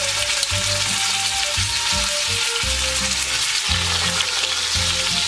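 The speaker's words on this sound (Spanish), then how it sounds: "Creo que el aceite ya está caliente. Se escucha, ¿no? Voy metiendo un poquito de carne." Meat frying in hot oil for a couscous dish, a loud, dense, continuous sizzle close by with faint stirring and utensil sounds underneath, no talking.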